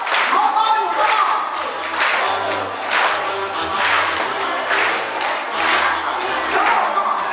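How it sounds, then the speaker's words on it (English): A crowd claps along in rhythm at a lively community event, steady group clapping with a thumping beat underneath and scattered shouts and voices throughout. "Come on, I want you to clap with me."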